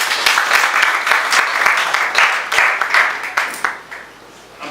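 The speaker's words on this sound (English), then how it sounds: "another round of applause for Carl." An audience at an afternoon development discourse event gives a round of applause, dense close clapping filling the room for several seconds before thinning out toward the end.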